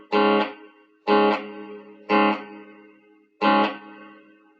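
A heavily processed instrument tone run through a reverb effect with an unnatural tail, struck in four separate bursts, each swelling loud and then decaying into a shifting, warped tail before falling silent.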